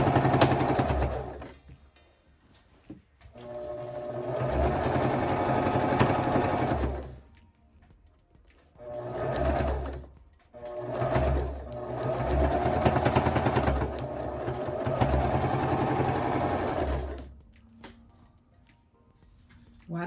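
A sewing machine stitches king-size pillow shams in several bursts of steady, close mechanical whirring, each lasting a few seconds and separated by brief pauses.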